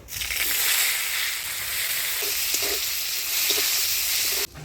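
Dried chili, bay leaf, whole cumin and chopped onion hitting hot oil in a village kitchen, giving a loud, close, continuous hissing sizzle that holds steady for several seconds before cutting off abruptly near the end, no voices.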